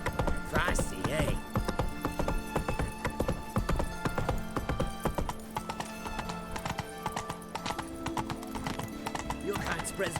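Horse hooves galloping in the video game The Witcher 3, a fast clip-clop rhythm up close with a whinny, accompanied by game music and voices talking over it.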